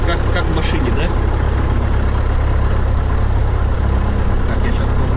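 A Cessna 172 light aircraft's piston engine warms up on the ground in Yakutia, a loud, steady droning rumble heard from the cockpit, with voices talking over it.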